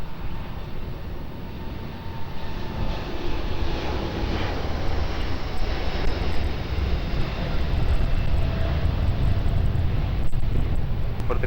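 Airplane on approach to land at Lisbon Airport runway 20, a broad steady engine roar that swells slowly throughout, loud and continuous, with no speech.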